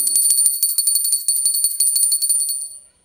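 Small brass puja hand bell rung rapidly and steadily during a Lakshmi puja aarti at Diwali, bright ringing strokes close by for about three seconds, then fading out.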